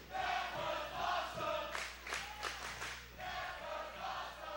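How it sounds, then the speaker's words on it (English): A wrestling arena crowd chants and roars in a steady, dense wash of many voices, swelling and dipping in waves with a few sharper shouts and bursts rising through the middle. "And the crowd chanting,"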